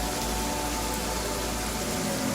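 Steady rain pours down on a rocky path outside, a dense, even hiss that runs unbroken from start to finish with no voices.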